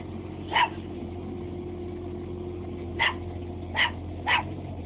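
A household dog gives four short barks, one early and then three in a closer cluster, at moderate distance over a steady low mechanical hum, with no talking.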